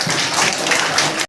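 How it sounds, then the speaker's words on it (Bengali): A classroom of students claps for a classmate during a map-pointing activity, a brief dense burst of loud, rapid applause that cuts off abruptly. "ওর জন্য হাততালি"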